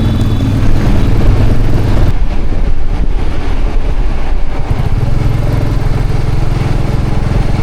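A motorcycle rides along a road, its engine droning loud and steady with close buffeting wind noise and a slight shift in pitch partway through as the ride continues.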